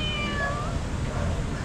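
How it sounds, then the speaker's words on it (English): On a street in Makati, Manila, a cat gives one drawn-out meow that slides downward in pitch, set against a steady rumble of city traffic. "Oh, there's a cat there."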